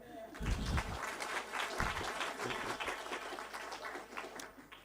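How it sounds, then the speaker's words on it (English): Audience applause at a council-style book launch gathering, a dense wash of many hands clapping steadily throughout, with some voices mixed in underneath. "Let's clap hands for him."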